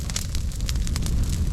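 An old pile of privet burns during a prescribed burn outdoors, giving a steady crackle with dense popping snaps over a low roaring rumble, close and continuous.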